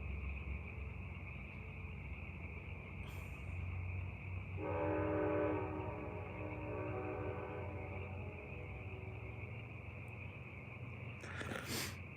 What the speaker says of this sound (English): Hello, train.